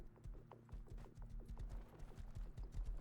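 Horse hooves clip-clop in the Rust video game, a steady rhythmic trot of quiet, close hoofbeats with low thuds continuing throughout.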